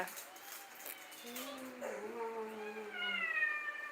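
A kitten gives a few thin, rising meows amid quiet background chatter, with one drawn-out mew near the middle and higher cries toward the end.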